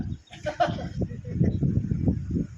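A goat bleats a few times nearby in Pécs, Hungary, wavering calls mixed with rustling and nearby human voices.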